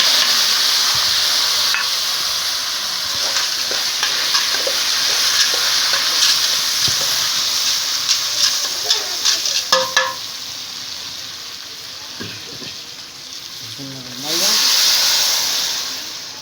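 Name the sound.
pasta frying and being stirred in a pan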